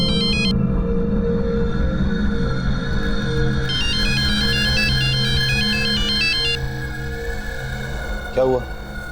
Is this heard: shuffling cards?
no